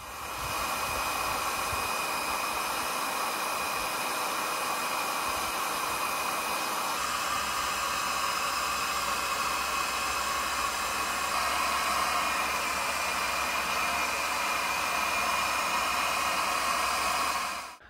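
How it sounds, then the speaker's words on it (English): A heat gun blows steadily for about eighteen seconds on beehive frames and a brood box during hive cleaning. The airy roar stays close and constant, shifting slightly in tone partway through, with no talking. "I use a heat gun on all the frames and the brood box to ensure parasites and viruses are killed off"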